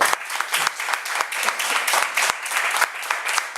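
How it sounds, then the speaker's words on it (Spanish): A room full of people at a church service claps in sustained, uneven applause, with no talking over it. "Aplaudo al Señor."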